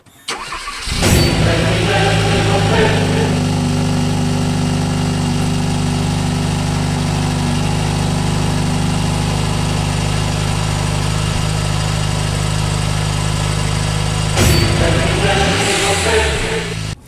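A Hyundai Veloster, left sitting unused for about a month, cranks and fires up, then settles into a steady, loud, close idle with a low rumble that runs for most of the clip, broken by a brief rev near the end.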